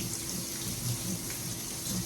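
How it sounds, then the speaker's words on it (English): Tap water splashing over parboiled rice as it is rinsed in a sink, a steady close rushing trickle throughout, with no voices. "Measured up 3/4 a cup of parboiled rice, and I'm just going to give it a good rinse."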